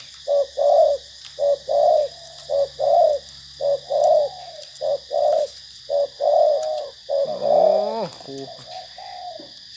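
Spotted dove named Tank coos in a steady series of rounded, mid-pitched phrases, close and clear, ending in a brief flurry of rising notes, with a faint high background hiss throughout.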